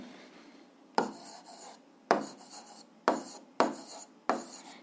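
A physics condition written out by hand: five sharp scratchy strokes, each about a second apart, each starting with a crisp attack and fading into a brief rasp, close and fairly quiet.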